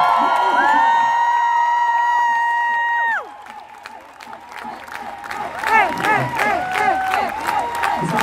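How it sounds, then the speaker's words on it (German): An audience applauds and cheers at the end of a live concert, sustained clapping with whoops and shouts after a held band chord fades out, loud and close. "Einen riesen Applaus."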